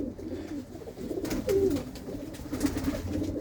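Pigeons coo softly in a low, throaty warble, with a few repeated calls close by and steady background ambience.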